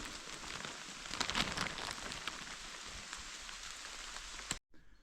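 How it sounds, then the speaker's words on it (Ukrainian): Steady rain patters on surfaces and foliage in a forest, a soft continuous hiss with scattered louder drops, cutting off abruptly near the end. "Шумить дощик."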